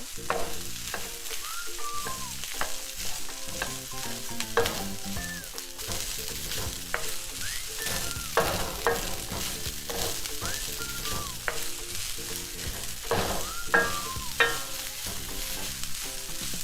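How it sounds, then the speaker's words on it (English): Rice and onions sizzle and fry in a pan while being stirred, with continuous crackling and irregular scraping stirs throughout, close up and with no talking. "Now add in your rice. Start to stir."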